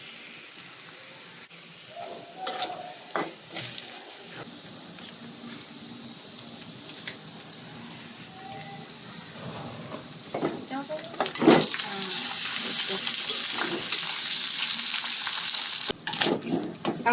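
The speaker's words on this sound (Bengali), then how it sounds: "এই যে এই পুরা মাংস দিয়ে দেবো ঢেলে" Meat goes into a hot pan on a home stove, and a steady, loud sizzle of frying rises and holds, with stirring noises and a person talking nearby before it.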